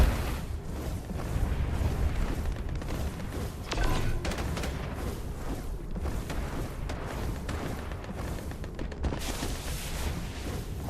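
Bombs going off in the battle royale shooter Farlight 84, a steady stream of heavy low booms and thuds rolling together across the whole stretch, dense and continuous with no clear gaps.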